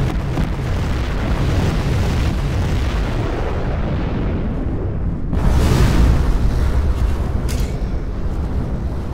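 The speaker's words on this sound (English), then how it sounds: "We have launched our nuclear missile." A nuclear missile detonates in C&C Generals Zero Hour, a long rolling roar of explosion that builds, then a second heavy blast surges in midway and rumbles on to the end.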